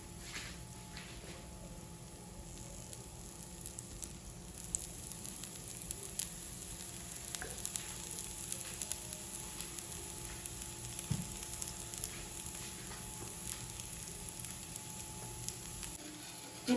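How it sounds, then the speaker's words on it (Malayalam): Dosa frying in oil on a pan: a faint, steady sizzle with light crackles runs throughout, close and continuous, with no voices. "ഇനി ഇതിലേക്ക് സൈഡിൽ കുറച്ച് എണ്ണ ഒഴിച്ചു കൊടുക്കാം."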